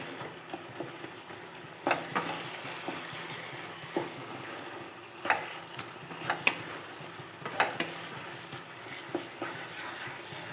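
A bottle gourd dish stirred in a pan while its remaining water cooks off, soft sizzling under scattered spatula clicks and scrapes, fairly quiet with no talk.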